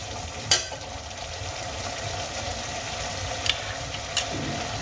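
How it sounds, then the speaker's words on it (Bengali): Ground mustard paste of white and black mustard, green chili and salt goes into spice masala frying in oil, giving a steady close sizzle with a few sharp clinks of a spoon against the pan. "এবার আমি এর মধ্যে দিয়ে দেব আগে থেকে বেটে রাখা সর্ষে"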